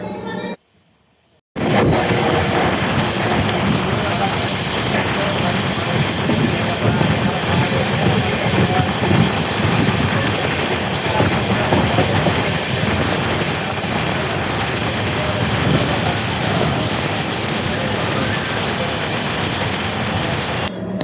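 A passenger train travelling from Koppal to Badami in North Karnataka rumbles along the rails with a steady, loud, continuous roar and faint clatter, after a brief silent gap at the start.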